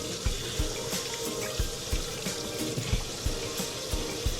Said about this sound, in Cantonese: 又係揾水喉水沖一沖佢